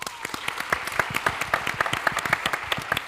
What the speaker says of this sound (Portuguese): Um aplauso.